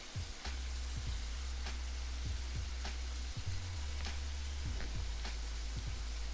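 Faint, steady sizzle of buttermilk fried chicken frying in hot oil, with soft irregular pops and crackles scattered throughout and no voices.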